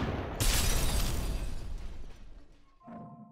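An enemy shattering into glassy shards in SUPERHOT: Mind Control Delete, a sudden loud crashing burst that decays into a fading scatter of debris, followed by a short, faint metallic ring.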